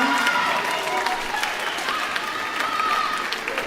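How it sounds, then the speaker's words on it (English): Audience applause fills the room after an 8th grade school band concert, a dense, steady wash of clapping at even loudness throughout, with a few faint voices in the crowd. "It's okay to keep applauding."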